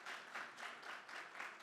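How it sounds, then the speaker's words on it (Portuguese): An audience at a communication-regulation policy panel applauds a guest, a brief, faint, even patter of many hands clapping in a room. "Peço uma salva de palmas."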